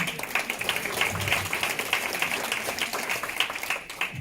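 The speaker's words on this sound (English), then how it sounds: "giving them a round of applause for a great evening" A crowd applauds at an annual spring dinner, with steady, dense clapping from many hands, moderately loud and continuing throughout.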